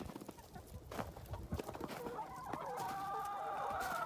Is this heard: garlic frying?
no